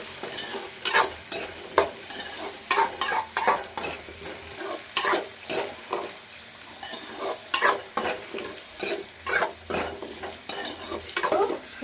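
Radish pieces frying in oil for a radish curry, with a constant close sizzle broken by repeated scraping stirs of a utensil against the pan at an irregular rhythm.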